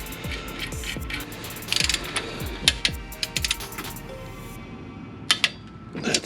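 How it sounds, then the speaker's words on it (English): A torque wrench ratchets and clicks on Honda Prelude manual transmission bolts, with light metallic ticks and a few sharper clicks spread across a quiet workshop background. "You want to set your torque wrench to 19 foot-pounds."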